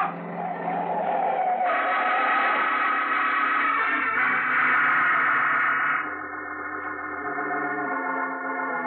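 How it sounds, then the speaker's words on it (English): A car roars past on a street at midnight on New Year's, a loud, steady, tonal engine rush that swells and then drops in pitch as it moves off, with no talk over it. "Hey, mister, look out for that car."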